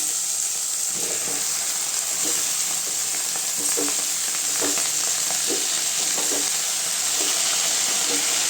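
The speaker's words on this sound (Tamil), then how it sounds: "கீரை போட்டு நல்லா கொஞ்சம் வதக்கிக்கலாங்க" Greens and tomato are sautéed in a pan with a loud, steady sizzle and hiss. Soft stirring knocks recur under the frying noise.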